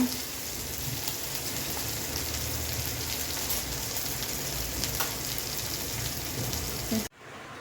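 A ground masala paste sautés in a pan for a Maharashtrian cauliflower and pea dry bhaji, giving a dense, even crackling sizzle close by that runs without a break and then cuts off sharply near the end.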